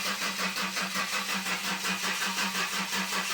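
A Ford Granada with a battery that had gone flat, its engine cranking over in a steady, even rhythmic churn lasting the whole few seconds, close and fairly loud.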